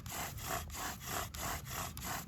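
Rhythmic back-and-forth rubbing of a bow drill spindle on wood, a quick steady scraping stroke repeating about every third of a second, close by.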